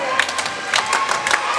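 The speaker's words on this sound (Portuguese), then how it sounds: "A torcida tá doida aqui, galera." Excited crowd cheering and shouting at a close volleyball match, bursts of yells and whoops from spectators in short waves, fairly near and lively.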